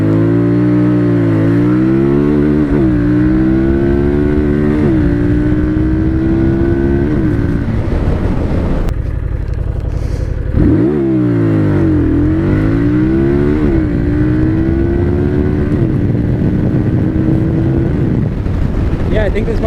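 A Harley-Davidson Street Rod 750 motorcycle accelerates hard from a standstill toward 60 mph. Its loud engine revs climb and drop through several gear shifts, with a brief pause midway, heard close throughout.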